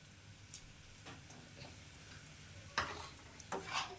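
Fried egg being stirred into chowmein in a pan for a Kolkata-style dish, with soft scraping and stirring scrapes, a few sharper spatula clicks near the end over a quiet sizzle.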